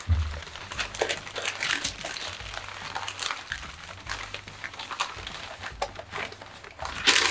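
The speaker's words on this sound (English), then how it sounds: "that's my favorite part, tearing the newspaper" Newspaper being torn and crumpled by hand for a paper craft, close and continuous crinkling with rustling bursts and small tearing sounds, no talking.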